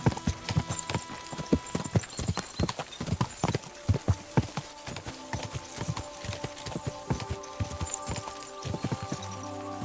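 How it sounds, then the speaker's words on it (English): Horse hooves clip-clop steadily at a walking pace in Kingdom Come: Deliverance 2, close and distinct, with a brief whinny and layered game ambience and music underneath. "Easy, good horse."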